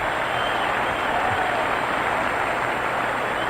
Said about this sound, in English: That's why this crowd is on its feet applauding him.